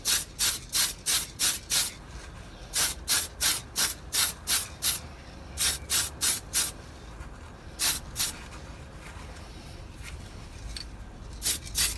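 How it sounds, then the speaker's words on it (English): Aerosol spray primer applied to die-cast model cars, a series of short hissing bursts in quick rhythmic clusters with pauses between groups, close and fairly quiet. "it's one of my favourite parts, which is priming these models"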